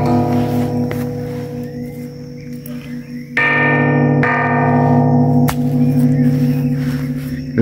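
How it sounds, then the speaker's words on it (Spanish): An improvised bell is struck several times at a rural mountain community in La Montañona, Chalatenango, calling people to prayer. Each strike gives a ringing, metallic tone that hangs over a steady background hum. "La campana."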